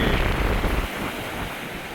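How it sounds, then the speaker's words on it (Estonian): Waves and wind on a beach by a campsite on Hiiumaa or Saaremaa, a continuous loud rushing roar with heavy gusty buffeting that eases after the first second. "Naudivad siin laineid ja tuult"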